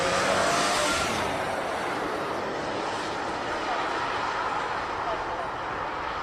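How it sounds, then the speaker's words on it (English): Two heavy cars, a V12 Toyota Century and a V8 SEMA car from Junction Produce, drag racing down a main straight; a loud, sustained broadband engine roar that fades slightly as they pull away. "The strangest drag battle saw a V12 Century and a V8 SEMA from Junction Produce barreling down"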